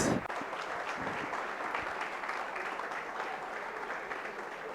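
An audience at a college tech project prize ceremony in Pune applauds a third-place winning team, a full steady round of clapping that runs throughout.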